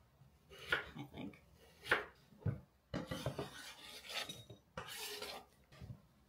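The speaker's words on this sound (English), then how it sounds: "Cut the carrot. Cut the carrot. Ooh, but it's a little hard," A knife chops a hard carrot on a board, giving a few sharp, spaced thuds and then softer scraping and rubbing strokes, all fairly quiet and close.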